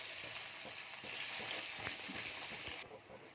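Paneer frying in hot oil in a home kitchen, a faint bubbling sizzle with a few stirring clicks, heard under some low background noise.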